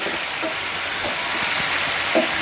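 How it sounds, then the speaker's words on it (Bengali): Onion and garlic frying in a pan with steady, loud sizzling close by, a constant crackling hiss throughout, and no one talking. "পেঁয়াজ রসুন লাল লাল হয়ে আসলে আমি দিয়ে দিচ্ছি ভাজিটা আর একটু নেড়ে দিচ্ছি"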